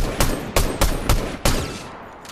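Five sharp, loud gunshots in the battle-royale game Fortnite, fired at uneven intervals. Each has a punchy crack and a short decaying tail, with no talk.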